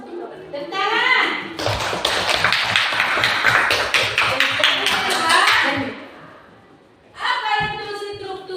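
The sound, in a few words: students clapping hands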